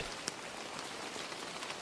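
Steady rain falls in Dublin, a constant close hiss of drops on hard surfaces with one sharper tap near the start, and no voices.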